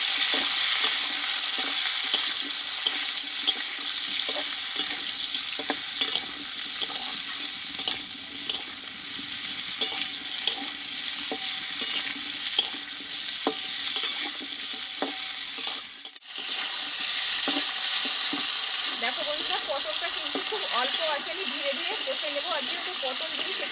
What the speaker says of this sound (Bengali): গুঁড়ো দিয়ে দেবো দিয়ে পটলটাকে কষিয়ে নেব